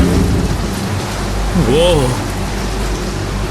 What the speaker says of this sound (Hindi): बारिश हो रही है, भीग जाएंगे।